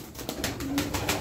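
A tumbler pigeon coos in a few short, rhythmic pulses, close and fairly loud, with no talk over it.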